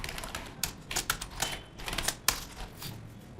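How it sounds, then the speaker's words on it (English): Quick, irregular clicking of keys on a computer keyboard, close and clear, with no voices over it. "You can type any text over here."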